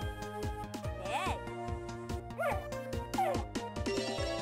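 Dog barks from the Nintendo DS game Barbie Groom and Glam Pups: a few short, chirpy electronic yips spaced a second or so apart, sitting on top of bouncy looping game music.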